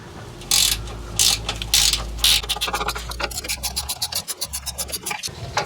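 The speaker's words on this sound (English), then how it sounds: "I'm going to use this Mountain brand 14mm ratcheting flex head with the little offset there." A Mountain brand 14mm ratcheting flex-head wrench works a bump stop nut loose on a 2019 Toyota Sequoia, giving a few loud separate clicking bursts followed by a fast, close run of rapid ratchet clicks.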